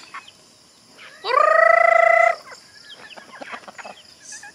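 A loud, sustained bird call rings out for about a second, followed by softer scattered clucking from chickens nearby.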